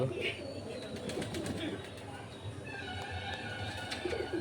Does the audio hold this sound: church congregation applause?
no